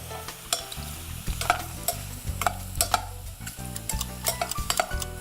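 Mushrooms fry in a hot pan with a steady close sizzle, while a utensil taps and scrapes the pan now and then throughout.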